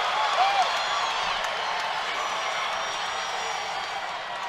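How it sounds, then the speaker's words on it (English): A crowd at a women's main-event fight cheers steadily and loudly throughout, a dense roar of voices and applause that stays fairly even from start to finish. "Wow, crowd's loving it."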